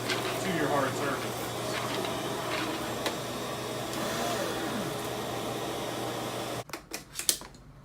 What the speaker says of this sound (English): transition by powering on the power head to your carpet